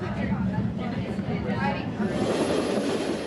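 An express train rolling along the rails in timber country, a continuous rumbling clatter with a rising high squeal in the latter half, loud and close, with a voice talking over it.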